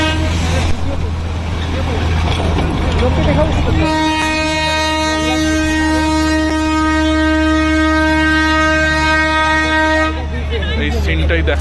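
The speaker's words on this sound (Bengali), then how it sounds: "লুপে ট্রেনটা ঘুরছে" The Darjeeling toy train rounds Batasia Loop and sounds a long, steady horn for several seconds over a low rumble. People's voices carry throughout.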